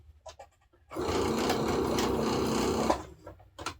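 A sewing machine stitches cotton fabric in one steady, loud continuous whir lasting about two seconds, with quiet handling sounds before and after.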